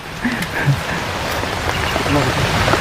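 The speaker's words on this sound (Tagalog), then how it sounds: "So, malakas na po yung ulan." Heavy rain pours steadily with a dense, continuous hiss and patter throughout, while a voice talks faintly underneath.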